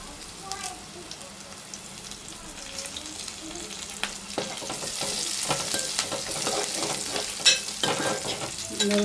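Green chillies and onions fry in a pan for an egg curry, a steady crackling sizzle that grows denser and louder toward the end, with occasional stirring scrapes and no talk.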